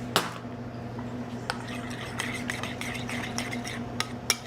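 Mayonnaise being stirred with parsley, lemon juice and Worcestershire sauce, a utensil scraping and clinking against the bowl in soft, repeated strokes up close, with a steady hum underneath.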